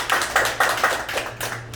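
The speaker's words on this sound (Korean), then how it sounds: "박수 한번 크게 해주세요" Sparse claps from a small audience at a gathering, several distinct handclaps in an uneven rhythm over a low hum, fairly quiet and close.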